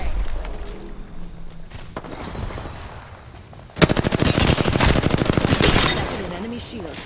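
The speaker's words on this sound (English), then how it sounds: "Opening fire on our prey" Rapid automatic gunfire erupts loudly in the Apex Legends battle royale game after a quieter stretch of scattered game sounds and a voice, the bursts dense and close.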